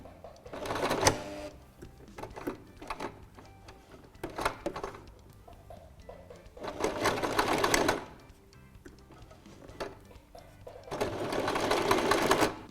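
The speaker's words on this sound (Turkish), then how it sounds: "tam omuz dikişlerini üst üste getirerek birer gömme dikişi yapıyoruz" Singer sewing machine stitching a shirt collar seam, running in several loud whirring bursts separated by quieter pauses with faint handling noises.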